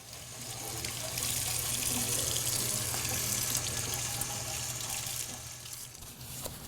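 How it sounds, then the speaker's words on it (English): Tap water runs steadily into a sink as a piece of etched glass is rinsed off, a continuous close hiss and splash with no one speaking. "I'm ready to take it to a sink with running water,"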